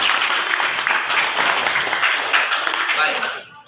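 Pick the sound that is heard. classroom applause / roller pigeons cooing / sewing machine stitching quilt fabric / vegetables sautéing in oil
classroom applause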